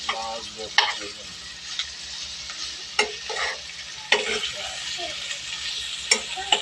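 Chicken meat and garlic frying in a pan for tinola, with a steady close sizzle broken by several sharp scrapes and clacks of stirring throughout.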